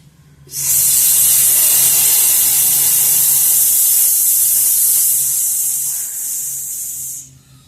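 A forceful, sustained hissing exhale from a breathing exercise, loud and steady for about six seconds before tapering off, with no speech over it.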